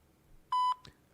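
A single short, clean electronic beep marks the voicemail prompt on a phone call, followed by a faint click.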